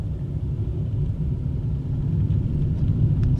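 A car accelerates on a city road during a driving lesson, a steady low engine and road rumble heard from inside the cabin, loud and continuous with no talk.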